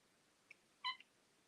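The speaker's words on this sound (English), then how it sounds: "the kitten wants to go out" A kitten wanting to go out gives a faint short chirp, then one clear high meow close by, in an otherwise quiet room with low background hiss.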